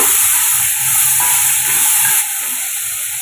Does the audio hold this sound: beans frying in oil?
yes